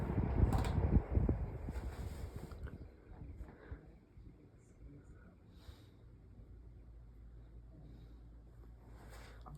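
A Vornado model 810 18-inch box fan spins down, opening with a short clatter and rumble near the start, then a low fading whir that drops to a faint hum.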